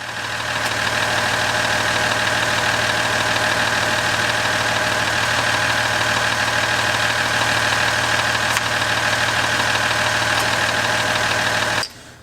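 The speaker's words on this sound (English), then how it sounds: "I'm going to fire the truck back up right away." A Ram 1500 pickup with a ZF 8-speed transmission idles close by, a steady loud engine drone with a faint ticking texture that continues unbroken for about twelve seconds before cutting off abruptly.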